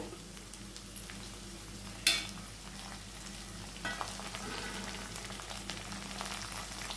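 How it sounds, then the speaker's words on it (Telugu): Onions with ginger, green chillies and curry leaves sauté in a pan for upma, making a soft, steady sizzle with stirring and one sharp clatter early on, alone without talk. "కొంచెంగా పసుపు వేసుకొని మరి కాసేపు మగ్గించుకోవాలి ఉల్లిపాయలు పచ్చివాసన పోయే వరకు మగ్గించుకోవాలి"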